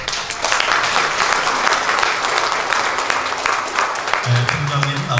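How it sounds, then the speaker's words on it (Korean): Applause from the congregation at a Korean pastoral ordination ceremony, a dense steady wash of many hands clapping for about five seconds, with a voice briefly speaking over it near the end. "박수 한번 쳐주시죠."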